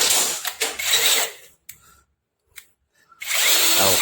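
AneerPower power drill whirring loudly in short bursts, dropping to a few faint clicks and near silence before spinning up again at close range.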